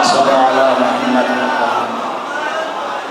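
A large gathering at a Shia majlis answering a religious slogan call together, a loud collective shout that swells at the start and then fades over about three seconds.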